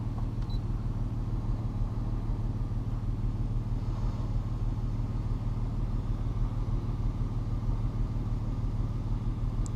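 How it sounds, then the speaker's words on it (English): A Mk5 Golf R32, bought as a salvage car, idles while warming up with a steady, even engine drone that holds at a constant level throughout, with no voices. "Not going to rev it yet, I'll just let it warm up a little bit."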